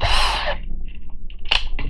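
A brief high-pitched whine of a 2.5 mm drill bit boring into a small die-cast Hot Wheels car at the start, followed by quieter taps and short bursts of machine noise.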